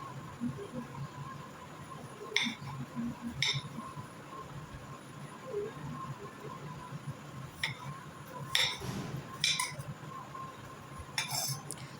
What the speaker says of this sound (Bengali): এই তো আমাদের পেয়ারা কাটা প্রায় শেষের দিকে চলে এসেছে।